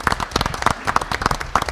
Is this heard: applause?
yes